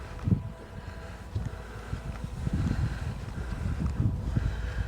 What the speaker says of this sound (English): A little bit windy today as well.